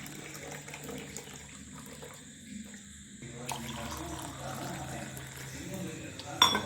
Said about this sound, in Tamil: இப்போ இதில் இந்த சுடு தண்ணி ஊற்றிக்கலாம்.